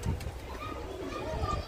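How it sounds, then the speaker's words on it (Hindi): A pigeon coos softly nearby, its low throaty calls repeating through the short moment, with faint background noise and people talking. "नीचे उड़ रहा है कबूतर।"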